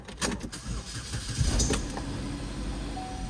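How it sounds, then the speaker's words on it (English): A Chevrolet Captiva with the GM 2.4 Ecotec engine, just fitted with a new timing chain, cranks briefly and catches, then settles into a steady running rumble, close by with no talk. "Let's give it a start and see how she sounds."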